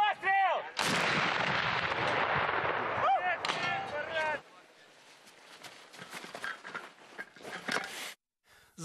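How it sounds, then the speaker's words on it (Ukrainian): A loud, booming artillery gun blast opens, with heavy rumbling gunfire and a second burst, then scattered lighter cracks and clatter trail off over a background of music. "Гармата. Постріл."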